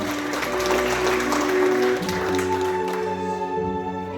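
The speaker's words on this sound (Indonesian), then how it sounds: "Tepuk tangan sekali buat kita sama-sama." An indoor audience at a training session claps together in a steady, full burst of applause lasting several seconds, with music tones ringing underneath.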